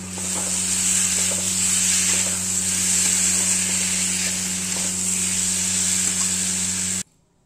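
Potatoes mixed with cumin powder and chopped tomato fry and sizzle in a pan, a steady close hiss over a low electrical hum, with some stirring, cutting off abruptly near the end.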